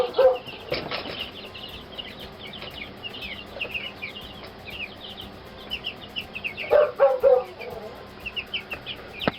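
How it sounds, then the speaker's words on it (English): A dog barks in a couple of short bursts, early on and again later, with bird and insect sounds filling the gaps. "I guess the dog's just going to bark the whole time I'm filming"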